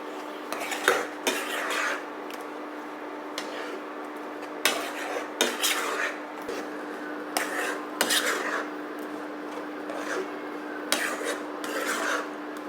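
Papaya and jaggery mixture stirred in a pan, with repeated scraping and rubbing strokes of a spoon against the metal, coming in irregular bursts over a low steady hum.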